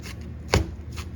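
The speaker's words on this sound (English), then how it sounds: "chop this up" A single close, sharp knife chop hits a small cutting board while ingredients for a relish topping for oxtail sliders are being cut, standing alone over a low background hum.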